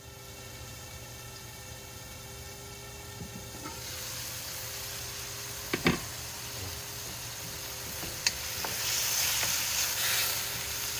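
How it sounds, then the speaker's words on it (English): Garlic and ginger sizzle steadily in a hot pan, a constant frying hiss with a few sharp clinks and stirring scrapes, growing louder and brighter toward the end, with no talking. "I'm gonna saute garlic and ginger."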